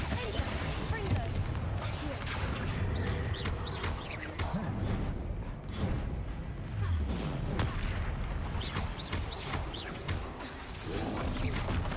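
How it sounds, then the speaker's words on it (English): Confringo fire blast spell exploding in Hogwarts Legacy, a series of booming bursts and crackling impacts amid game effects and music, with someone talking over the action. "Confringo."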